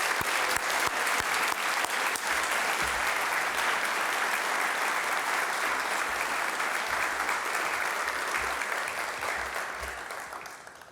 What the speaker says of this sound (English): I'd like to give one last round of applause for Mr. Angelo